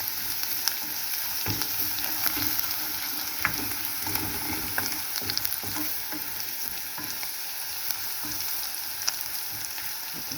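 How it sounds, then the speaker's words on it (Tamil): Onion and tomato sizzle and fry in a pan for a traditional pepper curry kolambu, a steady close hiss broken by occasional stirring clicks and scrapes, with no talking. "வெங்காயம் பாதி வதங்கிச்சு. இப்போ தக்காளி போட்டுக்கலாம்"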